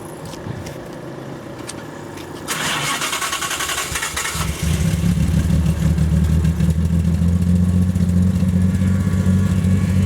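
A Jaguar C-type replica fitted with a Jaguar XJ6 engine starts up with a short cranking burst, then settles into a loud, steady, rumbling idle close by.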